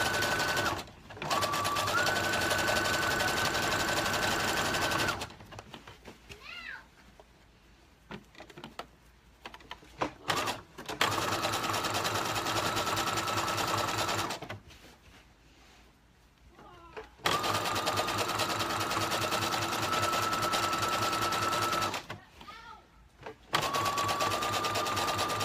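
A sewing machine stitches around folded elastic in bursts of rapid mechanical whirring, close and loud, separated by pauses with faint handling noises.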